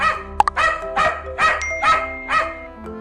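A dog barks five times in a steady rhythm, each bark loud and close, with a faint tonal hum running underneath.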